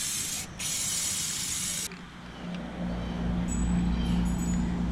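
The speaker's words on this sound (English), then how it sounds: "Now we're going to go and hit the inside with some black spray paint." Black spray paint hisses from an aerosol can onto the inside of a Pennywise prop in two loud bursts with a short gap between them. A low hum follows once the spraying stops.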